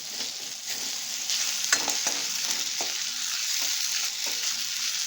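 Garlic ginger paste fries in a pan over a medium flame, giving a steady close hiss with light spoon scrapes and taps scattered throughout.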